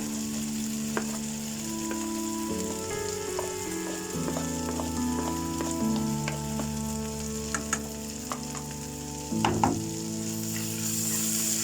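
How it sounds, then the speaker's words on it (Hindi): Turmeric and spices fry in a pan for jeera aloo with a constant close sizzle and occasional stirring scrapes, while steady tonal sounds run underneath; no one speaks. "अब इसे थोड़ा भूनना है, ठीक है, फ्राई करते हैं।"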